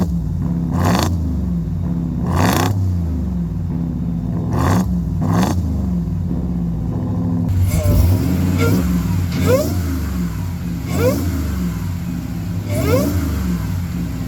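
A Jeep Gladiator with a swapped 808 hp Demon engine revs repeatedly up to around 2,000-2,500 rpm, each quick throttle blip rising and falling over a deep, loud idle rumble, about ten blips in a steady rhythm.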